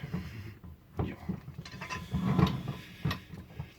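A Zexel diesel injection pump from a Holden Rodeo being tightened into a vise by its front nut, with irregular metallic clicks, ratcheting and scraping knocks close by.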